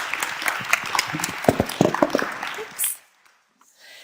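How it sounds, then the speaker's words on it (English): Audience applause for conference panelists at a panel on pioneering women in European innovation, a dense burst of many hands clapping under light talk, ending abruptly into near silence with a brief spoken remark. "Give them a round of applause."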